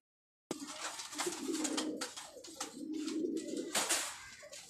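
Pigeons on a rooftop coo continuously and fairly close, several soft, throaty calls overlapping without pause.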